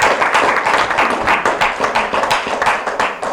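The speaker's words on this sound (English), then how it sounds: "if everyone would help me in giving them a round of applause, I would appreciate it" A small audience claps at a candidates night in Stafford, Genesee County. Several distinct hands strike close by in an uneven, slightly rhythmic patter for a few seconds, with no talk.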